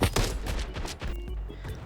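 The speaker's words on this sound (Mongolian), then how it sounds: "Хаанаас намайг буудаад байна?" Rapid bursts of gunfire in the shooter game Standoff 2 crackle and boom in quick succession, loud and dense throughout.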